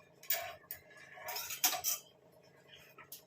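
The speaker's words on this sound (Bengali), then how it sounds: "এবার আমি ঢাকা দিয়ে দেবো।" A metal lid set down on a cooking pot while lentil dal simmers gives a few close clinks and clatters, with a brighter metallic clank near the middle and lighter taps at the start and end.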